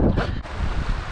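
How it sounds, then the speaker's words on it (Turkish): Strong seaside wind buffets the microphone in a loud, continuous rumbling gust on a windy shore. "ama çok rüzgar var"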